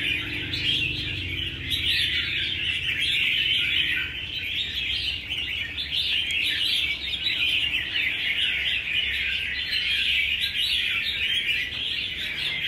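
An Oriental magpie-robin sings continuously, a dense run of bright chirps and whistled phrases at steady strength with no pauses, alone and close to the listener.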